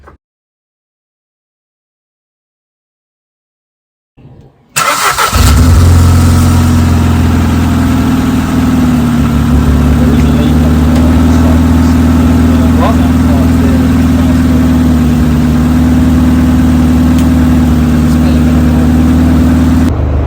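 After a few seconds of near silence, a Ford Fiesta Zetec-S engine, just refitted, starts and settles into a loud, close, steady idle with a strong low hum that continues to the end, while someone talks.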